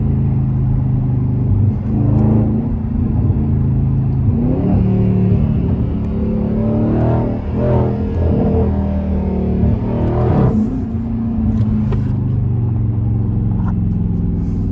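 Dodge Charger Daytona accelerating in hard pulls, a loud rumbling engine rising and falling in pitch through repeated revving surges close by, with no voices over it.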